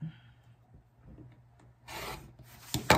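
A rotary cutter slices through a quilt fabric strip on a cutting mat, a quiet scrape and rub followed by a couple of louder, brief cutting strokes near the end.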